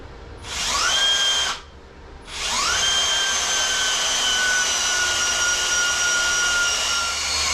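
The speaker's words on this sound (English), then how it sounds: "Blinking drill's gone flat now." Cordless drill spinning a flywheel on a balancer, a loud high whine that winds up, cuts out briefly and spins up again to a sustained steady tone.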